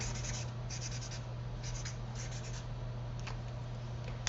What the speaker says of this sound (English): And I'm going to kind of scribble on my paper.